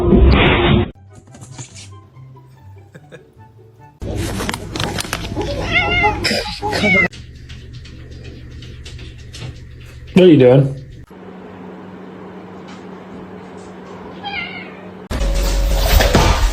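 A pet cat meows several times in short, clear calls indoors, mixed with a person's talk and some mechanical background hum.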